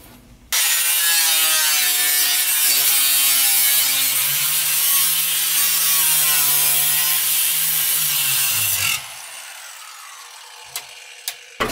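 A tool slices through a section of Honda car body webbing during a gutting build, a loud, continuous rasping cut lasting about eight seconds before it stops abruptly, followed by a few faint clicks.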